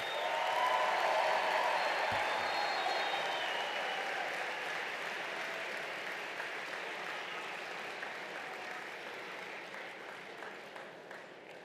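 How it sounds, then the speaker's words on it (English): Steady applause from a large crowd at a college graduation ceremony, sustained throughout and slowly tapering, with no talking over it. "Please give an extra round of applause for Shraddha Zina"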